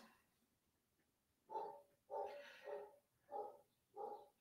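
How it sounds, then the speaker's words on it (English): Five barks from a dog come at an even, steady rhythm, fairly faint and distant, with nothing else around them. "Just like that barking dog"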